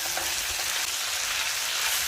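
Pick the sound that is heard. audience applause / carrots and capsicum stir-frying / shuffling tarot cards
carrots and capsicum stir-frying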